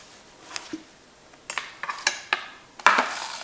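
Pieces of precooked kielbasa sausage dropped into a hot pressure cooker pot to brown: a handful of light clinks and sizzling taps, then a louder clatter near the end, close and with no voices.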